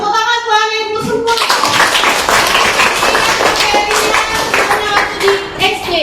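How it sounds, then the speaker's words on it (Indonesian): A schoolroom full of seventh-grade pupils claps for their teacher, a dense burst of close applause mixed with children's voices and chatter, after a short spoken lead-in. "tepuk tangan buat ibu semua"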